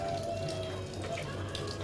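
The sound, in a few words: rain falling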